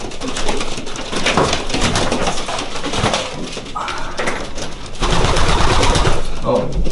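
Pigeons cooing inside a pigeon loft, repeated low throaty coos from several birds close by, mixed with rustling and someone talking throughout.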